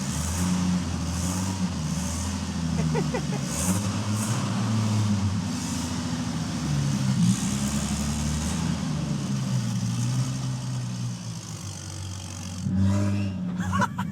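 A turbocharged Jeep Wrangler with a newly built custom exhaust drives on its first run, a deep, rumbling, tractor-like engine drone that rises and falls steadily up close, with a brief voice near the end.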